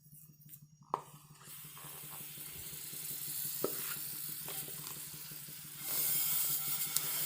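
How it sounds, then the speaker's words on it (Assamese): Jaggery heats in a non-stick pan for coconut laddu, a faint steady sizzle that builds into a louder hiss, with a few light knocks and scrapes close by and nobody talking. "প্ৰথমতে এয়া গুড়খিনি পেনত এখন নন ষ্টিক পেনত ঢালি লৈছো"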